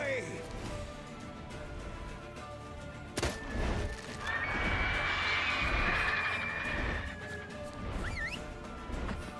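Geralt's horse Roach neighing in The Witcher 3: Wild Hunt, a loud whinny over hoofbeats and combat clatter.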